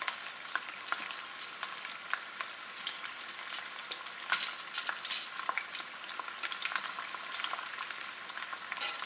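Plantain slices frying in oil, a steady bubbling sizzle with frequent crackles and pops, some louder bursts midway, heard close with no voices.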